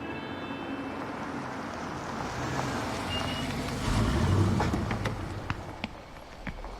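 A vehicle pulls up outdoors, its engine rumble swelling closer and louder before easing off, with a few faint clicks and clatters toward the end.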